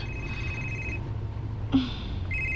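A cellphone rings indoors, a steady electronic tone that breaks off briefly with a click and then resumes, heard faintly over a low background hum.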